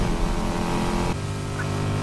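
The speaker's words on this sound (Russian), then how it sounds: "Обожаю звук этого движка." A sports car engine in the racing game Need for Speed Heat holds a steady, loud idle-to-rev drone that shifts pitch partway through, continuous and close with no talk over it.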